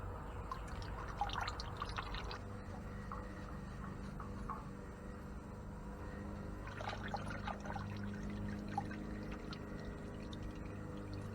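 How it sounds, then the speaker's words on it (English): Faint, steady trickle of motor oil draining from a car engine into a drain pan, a low continuous dribble with occasional drips, heard close and quiet with no talking. "oil's almost done draining out of it"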